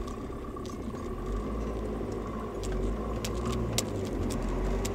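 A diesel car pulls away uphill on the clutch alone without throttle, a low steady engine drone under faint rattles and clicks that grows slightly louder partway through.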